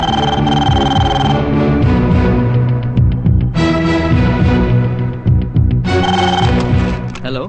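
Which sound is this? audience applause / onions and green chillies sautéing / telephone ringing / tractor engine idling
telephone ringing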